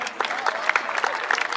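A crowd at the ŠK Novohrad Cup 2016 youth football tournament awards ceremony claps for a team in a burst of hearty, dense, continuous applause, with some background chatter.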